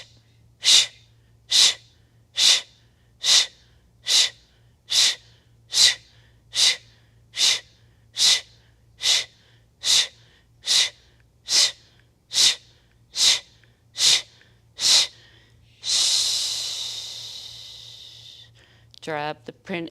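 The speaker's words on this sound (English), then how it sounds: "And then we're going to end with a 20 breath of fire." Rapid, forceful yoga breath-of-fire exhalations, about eighteen evenly spaced sharp nasal puffs, close and loud, then one long deep inhale and a brief few soft breaths at the end.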